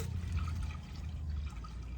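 Water pours into a pot on a gas stove on a terrace to boil eggs, a steady close splashing and trickling with a low rumble beneath, no talk.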